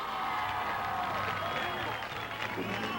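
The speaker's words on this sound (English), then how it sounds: "Up and waving to well-deserved applause" Applause from a crowd at the 1999 Show Ski Nationals for barefoot water-skiers, a dense, even wash of clapping from a distance that holds steady throughout.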